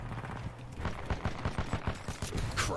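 Rapid gunfire in the video game Titanfall 2, fast repeated shots in a steady burst rhythm that run through the whole stretch at moderate loudness, with no talking.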